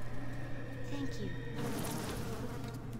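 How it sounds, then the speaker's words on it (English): Buzzing bee swarm in the video game BioShock, a steady droning hum filling the scene alongside game sounds, with a brighter rush of noise swelling midway. "Bees!"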